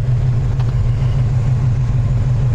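A restored 1934 Ford pickup's 350 V8 with Tri-Power carburetion runs at a steady, close, loud idle, its deep low rumble holding even throughout with no voices over it.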